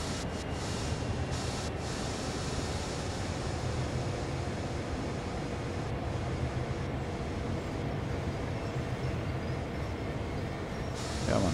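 A train in Train Sim World 2 runs on the Willard–Cumberland route, a steady continuous rumble of wheels and carriages with faint squeals and hiss throughout.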